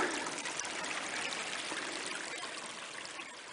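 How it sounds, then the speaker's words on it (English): A small stream on public backcountry land trickles and burbles steadily, a soft, continuous wash of water with no voices. "These are the kinds of streams that I like to get my water from."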